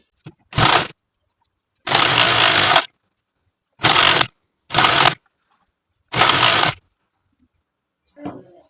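A sewing machine stitching a folded fabric hem, running in five separate bursts of whirring motor and needle clatter, each a second or so long with short pauses between, close and fairly loud.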